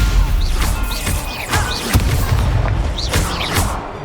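Stupefy spell impacts in the Hogwarts Legacy video game, a series of sharp booming hits with whooshing magical effects, several strikes spread across a loud, busy combat mix.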